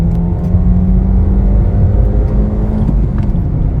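Inside a Nissan Versa S with a 5-speed manual, the engine drones steadily as the car climbs to highway speed, with a loud continuous rumble and road whir and no talking.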